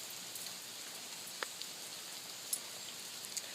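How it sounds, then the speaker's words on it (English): Light rain falling outdoors in Florida, a soft steady patter with a few sharper drips close by, heard alone with no talking. "And it's raining, because it's Florida."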